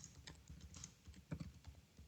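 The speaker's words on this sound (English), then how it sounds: "Like I'm just gonna type a short script here" Typing on a computer keyboard, with soft, quick, irregular key taps and a couple of slightly firmer presses, quiet and close with no voices.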